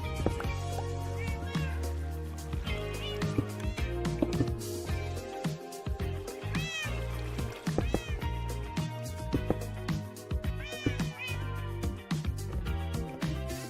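Minecraft cats meow repeatedly over dense background game music and sound effects in a hardcore survival world, the mews rising and falling in quick succession throughout.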